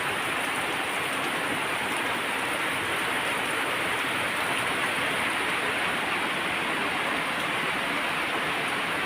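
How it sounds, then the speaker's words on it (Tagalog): Dense, steady rush of heavy rain pouring down without letup, a constant broadband hiss filling the whole clip. "grabe ang lakas ng ulan"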